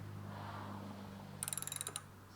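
A socket wrench ratchets in a quick run of about a dozen clicks while tightening a spark plug on a DEWALT pressure washer, close and clear over a steady low hum.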